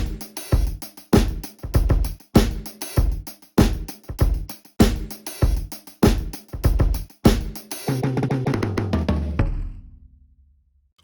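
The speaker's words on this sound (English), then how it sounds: "Here are the raw samples. And I used them to come up with this little silly beat." A short, punchy drum beat built from drum kit samples recorded on an iPhone, with evenly spaced kick and snare hits in a steady groove that ends in a ringing decay.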